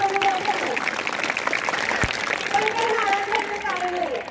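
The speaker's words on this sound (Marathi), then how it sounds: "सगळ्यांनी जोरदार टाळ्या वाजवा" Audience applause at a quiz competition held during a Shiv Jayanti celebration, a steady wash of clapping that lasts throughout, with a voice and tonal sounds over it.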